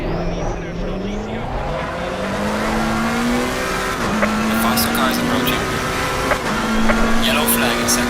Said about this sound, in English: Faster car coming up behind you.